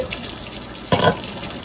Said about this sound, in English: So very gently pour that hot liquid down the drain.